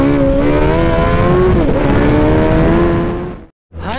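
A Suzuki Hayabusa motorcycle screams up through its revs in a power test, a loud, close, rising engine whine that cuts out abruptly, then rises again briefly.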